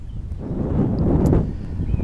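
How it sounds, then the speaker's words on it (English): Steady wind buffets the microphone on a beach, producing a low, rumbling roar that swells and holds for the whole moment with no voices. "It's so windy."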